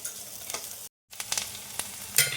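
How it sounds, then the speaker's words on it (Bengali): Chopped onions frying in oil in a pan, sizzling steadily with scrapes and taps of a spatula stirring, close and moderately quiet, broken by a brief silent gap. "দেখো কুচানো পেঁয়াজ দিয়ে দিলাম। এটা একটু নাড়াচাড়া করে নিব।"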